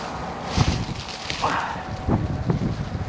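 Wind blowing outdoors at a trapping site, a steady rumbling buffet against the microphone with gusty swells and faint rustling throughout.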